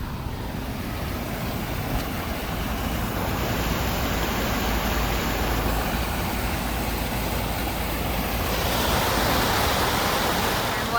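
Floodwater from the rising Menard Creek rushes toward a swollen river. A loud, steady, broadband roar holds for the full length with no pause, and no voice is heard over it.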